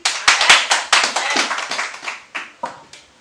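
A church congregation applauds together, a burst of roughly a dozen loud, close hand claps in an uneven rhythm that gradually thins out.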